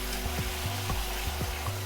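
Ginger garlic paste frying in hot oil for a dal makhani, a steady close sizzle with faint stir scrapes every few moments, no talking.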